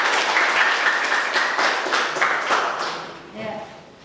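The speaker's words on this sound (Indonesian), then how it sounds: "Kita tepuk tangan untuk kita semua." A school class claps together at the end of a lesson, loud and dense at first, then thinning out and fading as a voice speaks briefly near the end.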